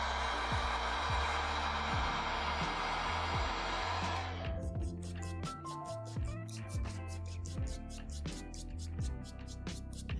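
A heat gun blows a loud, steady hiss while drying paint on Jordan 4 sneaker midsoles; after a few seconds the steady blast cuts off, leaving quieter clicks and handling sounds close by.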